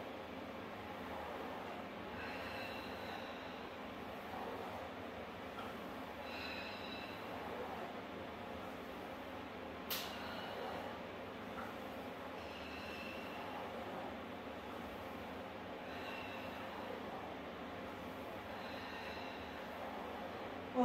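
The carriage of a Pilates reformer rolls out and back in a steady rhythm during a full-body class. There is a continuous low rumble of wheels on rails with faint squeaks recurring every few seconds, and no voice.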